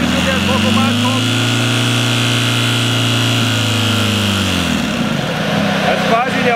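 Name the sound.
Ziegler Ultra Power 4 fire pump engine revving under throttle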